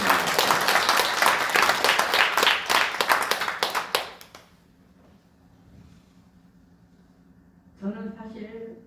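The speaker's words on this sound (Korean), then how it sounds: "권사님 나오실 때 박수로 청하겠습니다." A congregation at a church thanksgiving service breaks into loud, dense applause for several seconds, which then stops abruptly and is followed by quiet and a voice starting to speak.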